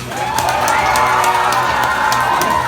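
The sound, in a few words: audience cheering for the tortoise in an animal race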